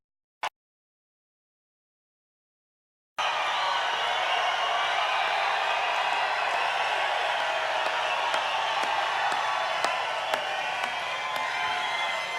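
A large rally crowd in Golden, Colorado roars with sustained cheering, whoops and clapping, dense and distant-sounding, after a short silent gap at the start.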